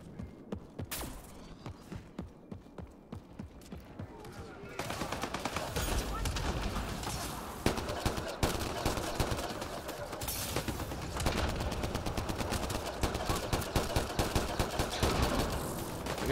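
Semi-automatic Avenger assault rifle fire in the Mass Effect Andromeda multiplayer shooter, a steady run of sharp repeated shots layered over dense game effects and background noise.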